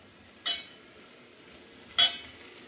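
Chicken masala mixture stirred in a pan over low gas with a metal spoon, two sharp scraping clinks about a second and a half apart above a faint steady sizzle, close and moderately loud, no talk.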